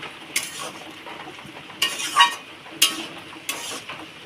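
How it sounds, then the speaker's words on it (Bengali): Greens with trimmings are stirred in a cooking pot, giving a few separate scraping, clinking strokes of a utensil against the metal, close and moderately loud, with quiet gaps between them. "একটু ভালো করে নাড়িয়ে দেবো।"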